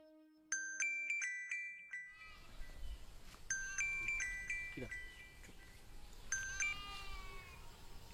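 A mobile phone rings with a melodic electronic ringtone, heard in three separate bursts that each repeat a short tune, clear and fairly close against a quiet room.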